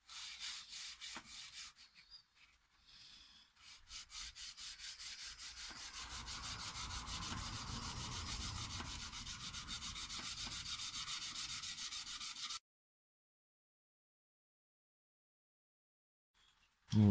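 Jointer blades are honed on a 600-grit sharpening stone in rapid back-and-forth strokes, giving a steady close gritty rasping that runs for several seconds and then stops abruptly into silence.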